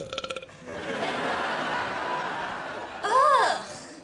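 A short, croaking belch lets out in a tense indoor moment, preceded by a brief voice and followed by a quick, strained vocal sound.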